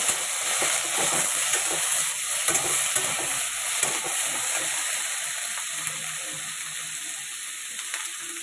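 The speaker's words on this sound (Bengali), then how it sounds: "এটাকে ভালো করে একটু ভাজা করে নেবো" Okra, potato and slit green chili frying in a pan with dried red chili, a continuous close sizzle with scattered scraping stirs that fade toward the end, no voices.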